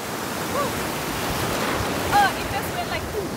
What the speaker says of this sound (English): The seas are rough in Sri Lanka.